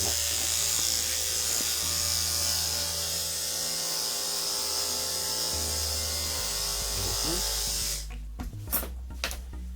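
Electric clippers buzz steadily while trimming a dog's hair during grooming, a continuous close motor hum that cuts out near the end, leaving brief clicks and handling noises.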